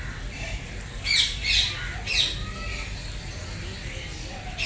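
Caged birds at Kankaria zoo let out a few sharp squawks in quick bursts, moderately close, over steady low background rumble with no talking.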